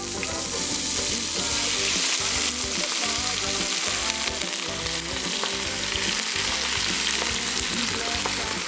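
Vegetables for a Cajun beef and vegetable soup brown in a very hot pan with a loud, dense, continuous sizzle and spitting crackle, close and unbroken from start to finish.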